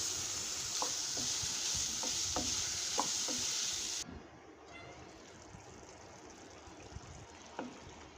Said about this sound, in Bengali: তরকারিটা কষিয়ে দিলাম টমেটোগুলো।